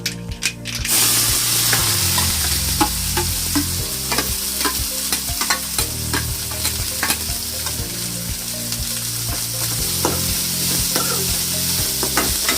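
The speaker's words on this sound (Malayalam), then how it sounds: "കടുക് പൊട്ടിയ ഉടനെ തന്നെ നമുക്ക് അതിലേക്ക് സവാള കൊത്തിയരിഞ്ഞത് ചേർത്ത് കൊടുക്കാം" Chopped onion sautéing in hot oil with spluttering mustard seeds for a mussels roast, a steady close sizzle broken by repeated scraping stirs of a spoon against the pan, with no talk.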